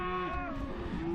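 A single close, drawn-out moo from cattle in a grazed field, a clear lowing call over faint outdoor background.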